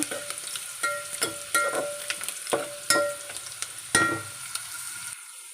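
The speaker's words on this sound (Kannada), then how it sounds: "ಪಾಲಕ್ ದಾಲಿಗೆ ಒಗ್ಗರಣೆ ಹಾಕೊಂಡ್ರೆ ಚೆನ್ನಾಗಾಗತ್ತೆ ಅಂತೇಳಿ ನಾನು ಒಗ್ಗರಣೆ ಹಾಕೊಳ್ತಾ ಇದ್ದೀನಿ" A garlic tempering for village-style dal palak sizzles in hot oil while a spoon stirs it in roughly once-a-second scraping strokes over a soft hiss, close by, stopping abruptly near the end.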